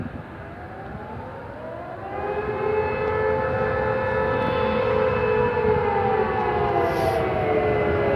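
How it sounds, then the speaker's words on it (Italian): Alarm sirens wail during a fire at the Sonatrach petrochemical plant in Augusta, a loud sustained rising and falling tone over a steady rumble, continuous throughout with no talk. "Le sirene che lanciano l'allarme"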